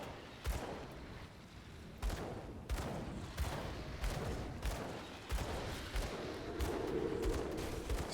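Repeated gunfire while moving and fighting in the action RPG Grim Dawn, with sharp shots recurring every second or so over a dense, steady bed of combat noise, moderately loud and without talk.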